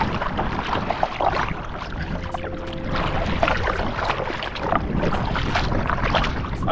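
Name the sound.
kayak being paddled on water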